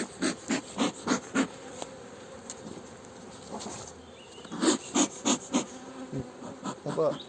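Honey bees buzz around an open hive during a queen introduction, a close hum with clusters of rapid tapping or rustling bursts coming and going, and a voice faintly audible in the background.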